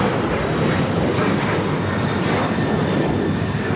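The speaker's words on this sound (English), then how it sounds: "This is Delta Airlines 615 taking off to Cancun on a 737-900ER." A Delta Airlines Boeing 737-900ER taking off from LAX, a loud, steady broadband engine roar that holds constant throughout, heard outdoors at close range.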